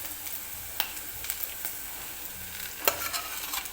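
Tomatoes tipped into a pan of frying onions for a matar paneer curry: a steady close sizzle with scattered scrapes and clacks of a spoon stirring, and no voices.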